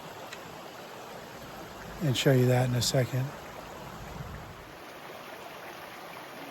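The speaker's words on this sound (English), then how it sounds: "And here's part of Canyon Creek at the sinks" Canyon Creek flowing at the sinks in the Trinity Alps wilderness, a steady broadband rush of water running throughout, with a voice speaking briefly over it in the middle.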